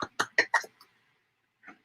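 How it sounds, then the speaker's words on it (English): A few quick, dry coughs in a row close by, followed by a short pause and one softer cough. "Quit coughing."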